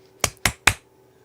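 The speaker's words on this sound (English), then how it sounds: "I got to do a clap for editing" Three sharp, close hand claps in quick, even succession in a quiet room at a MacBook repair bench, each a crisp isolated crack.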